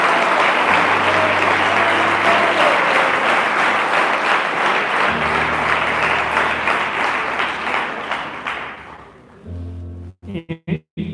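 A church congregation at a general service gives loud, sustained applause, with a low hum under it; the clapping thins and fades out, and a voice comes in near the end.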